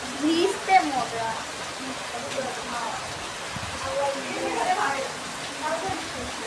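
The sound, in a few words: rain during a storm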